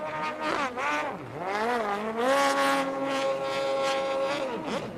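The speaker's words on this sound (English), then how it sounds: "either David Cabrera's boat got louder or my hearing just cleared" A watercross racing craft at full throttle during a Pro Watercross race in Sebring, Florida, its engine screaming in rising and falling revs, loud and close, with no voices over it.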